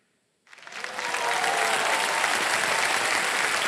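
Studio audience applause on a TV quiz show, Kaun Banega Crorepati, bursting in after a short silence and swelling into loud, sustained clapping that holds steady to the end.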